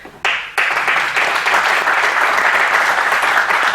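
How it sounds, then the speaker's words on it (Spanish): Strong audience applause bursts in after a brief pause and holds steady and loud, a dense wash of many hands clapping at a commemoration of the Apatzingán Constitution's 200th anniversary. "a quien les pido que le ofrezcamos un fuerte aplauso"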